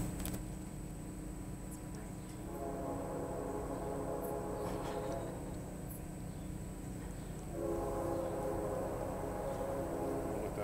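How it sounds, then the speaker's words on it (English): A train passes somewhere near a garden, heard as a quiet, steady rumble with two long, drawn-out horn-like tones, the second one slightly stronger. "Let that train go by."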